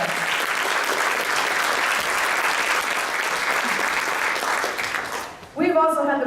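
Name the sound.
audience applause for community theater volunteers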